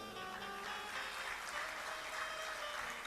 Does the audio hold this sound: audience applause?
yes